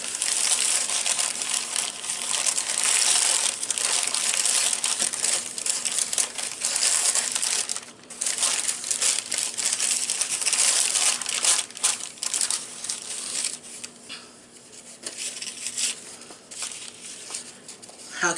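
Tissue paper crinkles and rustles steadily around a wrapped gift as it is unwrapped, close and fairly loud, with a few dips and softer crumpling toward the end, and no talking.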